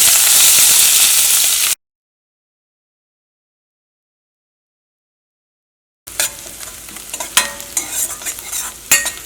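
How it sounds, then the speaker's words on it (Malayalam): Onions dropped into hot oil in a pan give a loud, steady sizzle and hiss, then a gap of silence, then quieter frying with scattered stirring scrapes and crackles for a chicken curry. "ഓയിൽ നന്നായിട്ട് ചൂടായിട്ടുണ്ട്. സവോള ചേർക്കട്ടെ."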